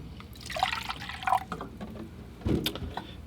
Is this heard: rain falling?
no